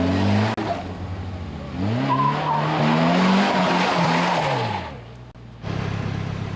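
A Polaris Slingshot three-wheeler revs and accelerates into a turn, its tires squealing as it tries to drift, the engine pitch rising and falling, loud and close before easing off and revving again.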